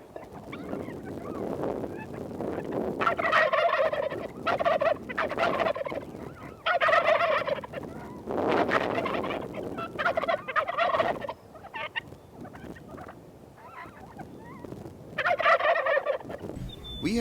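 Several bursts of wild turkey gobbling at moderate distance, repeated every few seconds over a quiet outdoor background.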